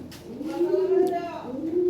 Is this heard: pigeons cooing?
yes